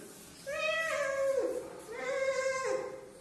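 A child imitates a goat's bleat with two wavering, quavering cries in quick succession, close and fairly clear, during a call-and-response animal-sounds game.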